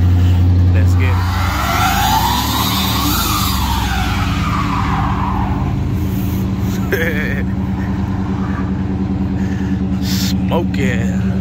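A 1988 Chevrolet Monte Carlo SS T-top runs at a steady, loud engine drone while being driven, with tire and road noise throughout and a rising, falling whine early on; voices talk over parts of it.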